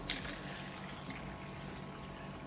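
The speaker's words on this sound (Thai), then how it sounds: "ให้เทน้ำเปล่าใส่ลงไปในแก้ว" Plain water poured into a glass, a soft steady trickle and splash that runs throughout, fairly quiet and close, with no one talking.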